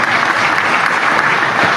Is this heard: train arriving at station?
no